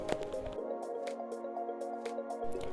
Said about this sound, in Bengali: তাই শুধু জলটা এখন খেয়ে নিচ্ছি।